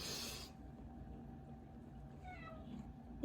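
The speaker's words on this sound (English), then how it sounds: "cat's saying hi." A house cat gives a short, clear meow at the start, then a quiet room hum follows with a faint second chirp-like call near the end.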